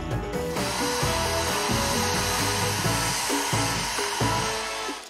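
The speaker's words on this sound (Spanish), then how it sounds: "vamos a secar un poco la base de la pintura" A hair dryer blows to dry the paint base on a canvas, a close, steady whooshing hum that runs continuously with faint rhythmic knocking underneath.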